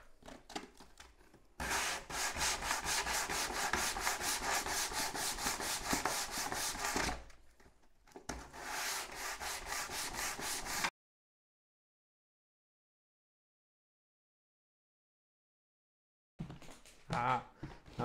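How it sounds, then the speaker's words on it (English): Sandpaper wrapped around a block of wood rubs back and forth over a wooden corner of an instant box camera kit. The sanding comes in long, steady, close scraping bursts, then silence, then a short final stretch. "What I do when I use sanding papers on corners, I'll just take a piece of wood and I'll wrap some sanding paper around it."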